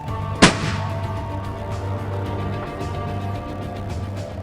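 A single rifle shot cracks out during a European deer hunt, aimed at a buck some 295 metres away, one sharp loud report near the start that decays into steady outdoor ambience with no voices.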